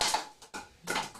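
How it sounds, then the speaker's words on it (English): A drink bottle gets knocked over during a T20 cricket match broadcast, giving a few short clattering knocks, near and moderately loud, separated by brief quiet gaps. "he's just knocked over a drink bottle"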